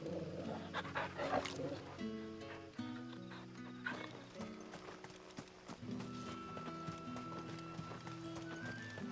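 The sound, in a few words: dog in the video game Final Fantasy XVI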